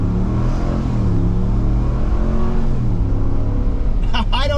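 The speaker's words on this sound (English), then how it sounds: "you got to love a Hemi engine" A RAM 1500 pickup's Hemi V8 rumbles loudly and steadily at a slow roll, its deep tone rising and falling slightly under load, with a brief voice entering at the end.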